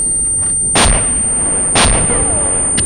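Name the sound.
tank gun firing tandem rounds in a video game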